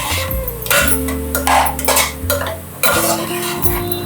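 Carrot, sugarcane, potato and brinjal are stir-fried in a pan for a Bhogi vegetable dish, giving loud, close scraping and clattering spoon-on-pan strokes in irregular bursts over a steady tonal hum.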